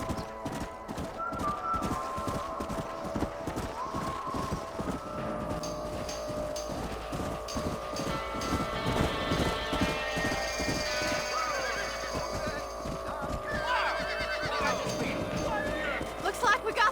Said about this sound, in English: Stay with the horses.